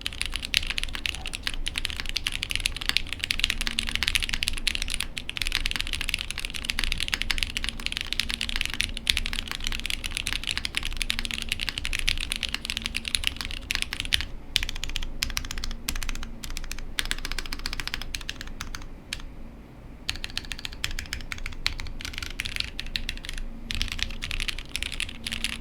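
Continuous fast typing on a Paper80 TKL keyboard fitted with MX Black switches on an aluminum plate, a dense, steady stream of close keystrokes with a few brief pauses.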